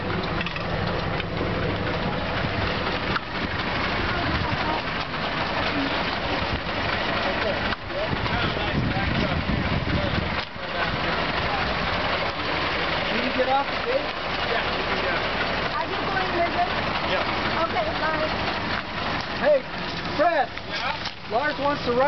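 A restored Rolls-Royce Piccadilly engine runs steadily just after starting, a continuous low idle rumble throughout with people talking over it.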